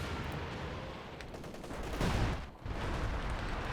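Katyusha rocket artillery firing in the strategy game Company of Heroes 2, a dense rumbling barrage of rapid launches and distant blasts that swells, briefly dips, then continues.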